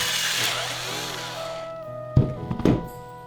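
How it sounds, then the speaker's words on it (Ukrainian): A cordless drill fitted with a wood hole saw bores through wood, giving a whirring, buzzing motor drone that winds down and fades, followed by two or three close hollow thunks. "Тепер за допомогою шуруповерта і коронки по дереву висвердлюємо все, що всередині."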